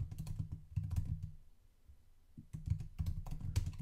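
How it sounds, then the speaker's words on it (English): Code is typed on a computer keyboard in quick, close clicking bursts, broken by a pause of about a second before the rapid keystrokes resume. "I find it's helpful to actually type these things out."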